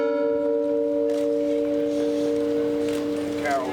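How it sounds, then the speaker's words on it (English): Church bell outside 16th Street Baptist Church in Birmingham, Alabama rings with a sustained, resonant tone that hangs and slowly decays over several seconds, with faint outdoor ambience and rustling near the end. "Sounds of the bell outside of 16th Street Baptist Church"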